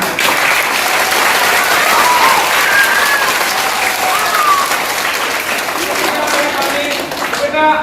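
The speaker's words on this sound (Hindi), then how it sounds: "कैसे मैम की तरह जोरदार क्लैप" Loud, sustained audience applause fills the room for several seconds, a dense wash of clapping with faint voices and cheers underneath.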